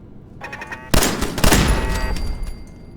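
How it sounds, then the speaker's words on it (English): Turrets firing in Fallout 4, a loud close burst of rapid gunfire that rings out and fades over a few seconds, with no talking. "I forgot that there were turrets."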